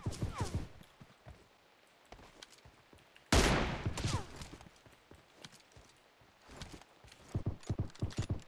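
Rapid gunfire bursts from an online shooter game, with sharp cracks scattered through the clip and one loud, dense volley in the middle, mixed with footstep-like clatter and little talk.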